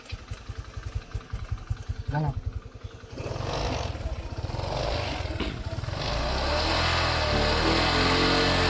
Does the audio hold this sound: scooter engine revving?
yes